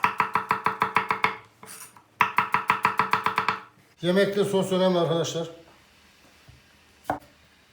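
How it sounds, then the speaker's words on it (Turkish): A knife chops vegetables for a sauce for an eggplant dish in two quick bursts of steady, evenly spaced chops, near and crisp, with a short pause between, then a voice speaks. "Sos için malzemeyi doğrayacağız."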